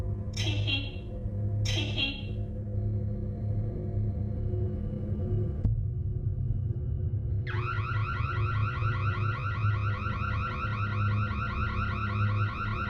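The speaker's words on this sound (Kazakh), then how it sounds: "сразу үйдің сигнализациясы өзімен өзі қосылып кетеді" A house alarm wails in a rapid, warbling electronic tone that starts partway through and keeps sounding over a low steady hum, after a couple of short chirps.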